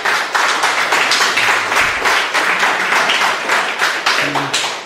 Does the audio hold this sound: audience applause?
yes